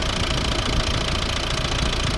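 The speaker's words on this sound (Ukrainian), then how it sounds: "Ось робота двигуна." A 2011 Volvo V60 1.6 D2 diesel engine running at idle, heard up close as a steady, loud, even clatter and hum with no talk.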